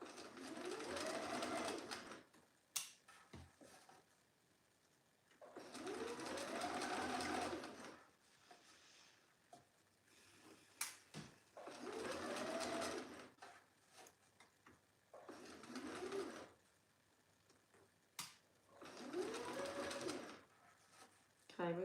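A sewing machine stitches a dress, running in five long bursts of several seconds each with short pauses between, close and fairly loud, with faint bird cooing in the background.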